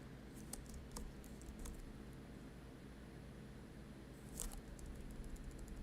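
Quiet tapping on a computer keyboard while entering code into an Arduino: irregular keystrokes in loose clusters, with a faster burst toward the end over a low room hum.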